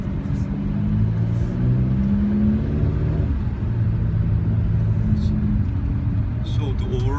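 An Alfa Romeo 4C drives along with a low engine rumble and road noise, the pitch rising and falling through gear changes, while people talk inside the cabin over it.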